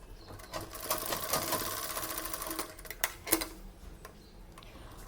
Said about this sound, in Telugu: దీన్ని మనం ఇటువైపుకి అటువైపుకి సైడ్స్కి కుట్టుకోవాలి.